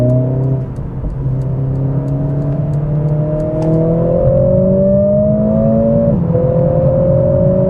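A 420 hp Mercedes CLA45s in race mode accelerates hard on icy roads, its engine note climbing steadily through the gears with brief shift dips, loud and continuous from inside the car.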